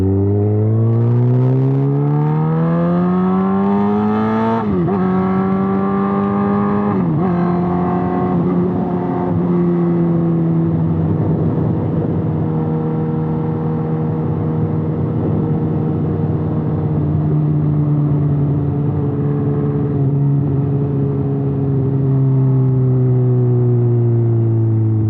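A motorcycle engine during riding practice runs loud and close, its pitch dipping around a shift and then holding a steady drone for the rest of the ride.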